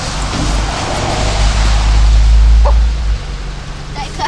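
A dog barks a few times outdoors at a family home in winter, somewhat distant, while a vehicle engine rumbles steadily nearby and people talk.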